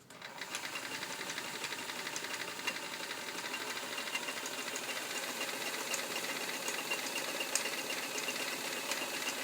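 A vintage all-steel Kenmore 158.902 sewing machine stitching a zigzag pattern, running as one steady, fast mechanical whir with fine rapid ticking throughout, close and unbroken, with no talking.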